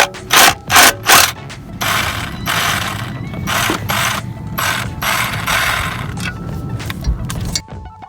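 A ratchet fitted with a star spline socket works on a Honda Del Sol clutch pressure plate: three loud bursts of rapid clicking, then longer stretches of ratcheting and metallic rubbing, close and alone.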